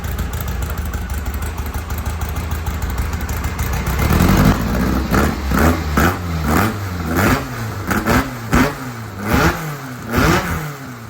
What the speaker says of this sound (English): rev it, Nick